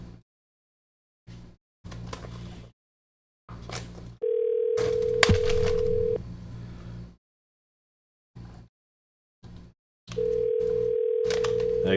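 Steady electronic voicemail beep sounding twice, a long held tone near the middle and another toward the end, separated by short bursts of recorded speech and silent gaps.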